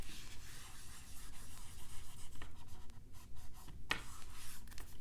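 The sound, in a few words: erasing the board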